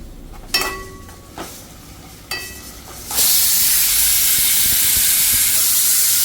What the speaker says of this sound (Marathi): इथे चालू आहे आपल्या कुकरच्या सिट्ट्या